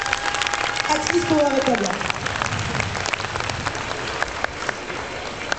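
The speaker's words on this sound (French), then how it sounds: "on les applaudit bien fort" Audience applause for a Hetalia cosplay group at the TGS Ohanami 2010 convention, a steady dense clapping wash heard throughout, with a voice talking over it and some music in the background.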